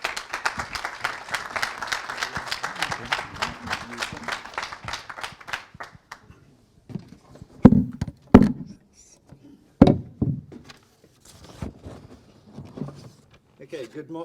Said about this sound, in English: A big applause for Steve